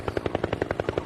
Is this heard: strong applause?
no